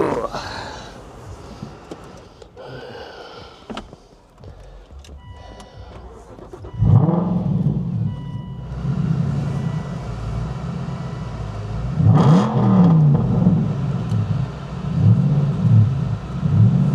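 An Aston Martin with a tweaked exhaust system starts up at an outdoor car show, a sharp catch of the starter followed by a loud, steady burbling idle with a couple of blips of revs. Voices murmur nearby before it fires.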